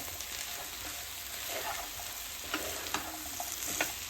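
A cauliflower, green peas and potato curry being stirred in the pan, a soft steady sizzle with a few light spoon taps and scrapes, fairly quiet and close.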